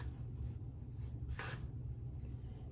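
A single short hiss of Gots to Be hair spray from an aerosol can during hair styling, with a steady low hum running underneath throughout.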